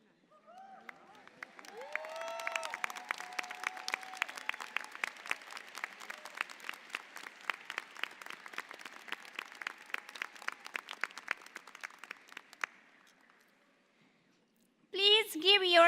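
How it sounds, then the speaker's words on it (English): A nursing school convocation audience claps in a steady, fairly rhythmic patter that builds and then stops abruptly. A brief voice or tone sounds at the start, and a louder sound bursts in at the very end. "Please give yourself a round of applause"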